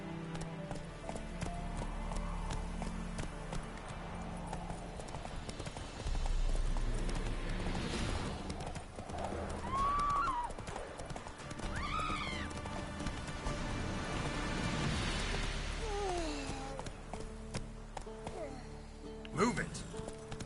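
Roach the horse galloping in The Witcher 3: Wild Hunt, steady clip-clop of hooves with occasional whinnies under continuous battle noise and talking throughout.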